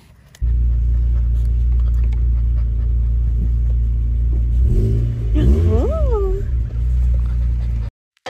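A Mazda Miata convertible cruising with the top down makes a loud, steady engine and wind rumble throughout. A golden retriever puppy gives a few short, high whimpers partway through before the sound cuts off near the end.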